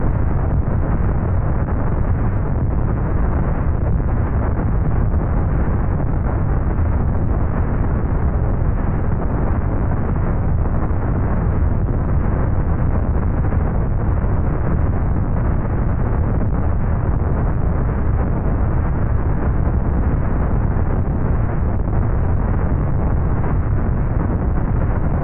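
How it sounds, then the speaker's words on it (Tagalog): Mount Dukono, a volcano in North Halmahera, Indonesia, erupts in a continuous heavy, low rumbling roar mixed with buffeting wind noise, loud and unbroken for about twenty-five seconds. "nagsimula ng pumutok at magbuga ng malalaking usok ang Mount Dukuno na matatagpuan sa North Halmahera sa Indonesia"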